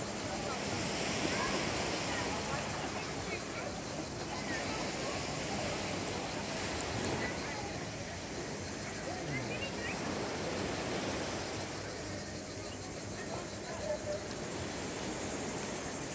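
Sea surf washes steadily onto a Crimean beach, a continuous broad rush of breaking waves with some wind noise.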